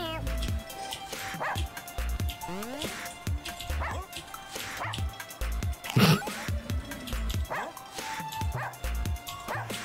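Cartoonish dogs bark and yip repeatedly in the video game Russian Subway Dogs, set in a subway station, mixed with game music and effects, with a louder burst near the middle and someone talking over it.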